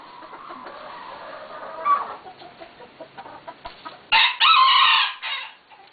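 A pet turkey clucks and calls in short bursts at close range, with a louder burst of gobbling-like calls toward the end; no talk.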